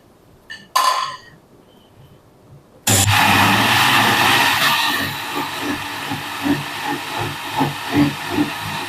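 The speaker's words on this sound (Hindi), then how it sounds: "मैंने प्याज और लहसुन दही में डाल के ये ग्राइंड कर लिया है।" An electric kitchen grinder blends onion and garlic in yogurt, switching on abruptly after a quiet start with a brief click, then whirring loudly and steadily with a slightly pulsing roar close by.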